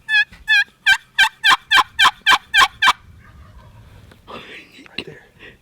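A wild turkey at a roost site gobbles loudly and close, a rapid rippling burst of about ten sharp gobble notes, followed by quieter rustling and faint movement.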